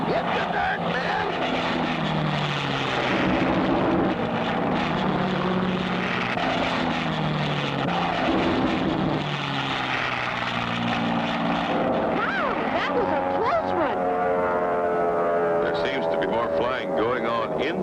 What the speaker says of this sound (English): He's circling around and is coming in for a landing.